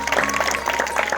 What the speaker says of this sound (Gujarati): જોરદાર તાળીઓના ગણગણથી આપણે વધાવીશું